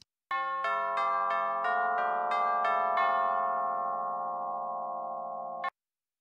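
A series of tubular bell strikes by a symphonic orchestra in quick succession, each ringing out with bright metallic overtones and blending into a long sustained shimmer before cutting off.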